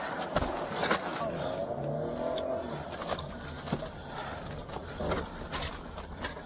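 Car speeding away from a police traffic stop on a highway, engine revving and roaring with passing traffic noise and wind buffeting, a police officer talking over it.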